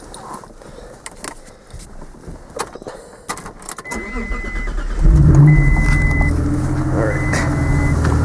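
A Mitsubishi 3000GT engine cranks and fires to life after some clicks and cabin rustling, then settles into a loud, close, steady idle with a possible misfire; a person briefly speaks at the start.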